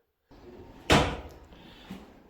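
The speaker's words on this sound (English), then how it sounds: "Whoa, a little secret door." A small hidden door in a haunted-attraction building is pushed open with a sharp knock and rattle, followed by a fading creak and a faint later bump, close by against quiet room noise.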